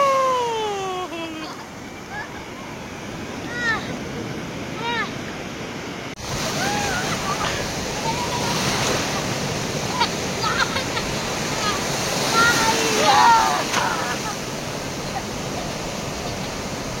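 Surf breaking steadily on a Konkan beach at Diveagar, a continuous broadband wash with surges, under excited voices chanting and calling out over the waves.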